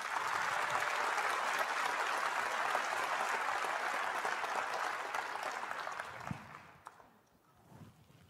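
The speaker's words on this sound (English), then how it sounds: "Please give them a round of applause." A large crowd at a university fall commencement ceremony applauds steadily, the clapping holding strong before thinning and fading out near the end, heard at a moderate distance.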